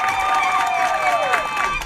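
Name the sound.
audience applause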